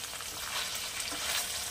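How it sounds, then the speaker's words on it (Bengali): Fish frying in a pan, turned so both sides are well browned, gives a steady dense sizzle that stays even and close for a short stretch with no voices. "মাছটা 2 পিঠ খুব ভালো করে ভাজা হয়ে গেছে।"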